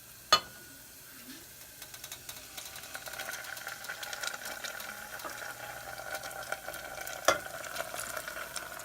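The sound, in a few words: mustard stirred into cooked onions and garlic in pan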